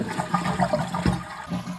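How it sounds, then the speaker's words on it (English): A household toilet flushes up close as its flush valve seal lifts, a short loud rush of water draining from the tank into the bowl. "So you can see as I flush it"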